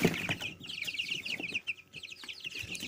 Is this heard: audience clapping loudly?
no